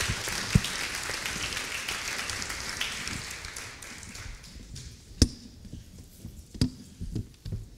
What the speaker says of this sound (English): Please join me in giving a round of applause to Bill Flanagan